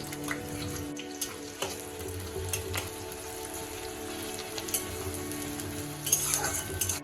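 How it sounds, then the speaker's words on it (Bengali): Sliced onions frying in white oil for beresta: a dense, continuous sizzle with occasional stirring scrapes, steady and close throughout. "এবার আমি পেঁয়াজ ভালো করে ভেজে নেব"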